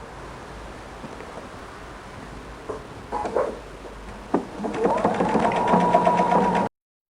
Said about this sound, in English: So you'll just take this and attach your pieces one by one and sew along.